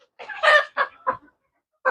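A Sonali rooster at a poultry farm gives a series of short, close clucks and squawks, about four bursts spread over two seconds with brief silences between them.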